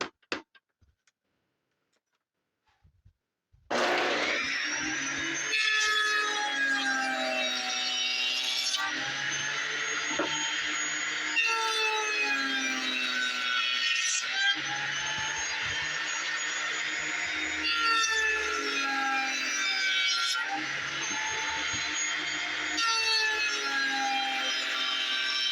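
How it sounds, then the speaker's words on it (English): A power tool cuts a rabbet across the ends of solid wood boards for a handmade bedroom door. After about four seconds of near silence, a loud, steady, whining cut begins and runs throughout with slight surges, and no talking. "The next thing we're going to do is put the rabbet on the ends"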